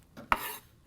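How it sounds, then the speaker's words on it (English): A knife chops Fuji apples on a board: a couple of sharp, close clicks with a brief scraping rustle between them, fairly quiet and with no voices. "I'm just chopping up my apples."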